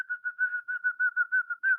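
A person whistles a short tune alone, a clear, fairly quiet tone broken into a quick run of separate notes.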